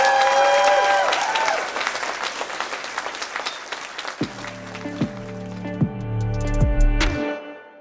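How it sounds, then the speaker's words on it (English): Crowd applause for a graduating class at a ceremony, a dense patter that fades over several seconds, giving way to a sustained, tonal chord-like sound with sharp onsets that swells near the end before cutting off. "Let's have a final round of applause for Class"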